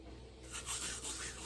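Spices ground to powder in a small homemade hand grinder while chili beans are made, a quiet close scraping and rubbing rasp in two or three short pushes.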